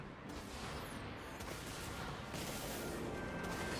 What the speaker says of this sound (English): you fire those side cannons and you just light them up